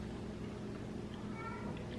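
A house cat gives a short, faint meow near the end, mostly buried under a constant low background hum in a kitchen.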